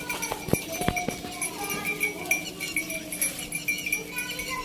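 Goats on a farm give a few short bleats amid background noise, with faint voices talking nearby.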